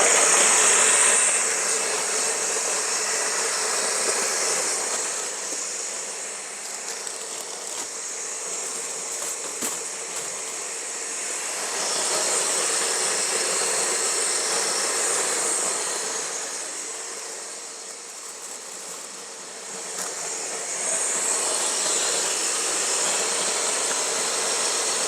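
Steady loud whirring roar of a blender mixing a thick high-protein gainer smoothie on low speed, continuous and close, rising and falling slightly in intensity over a long stretch.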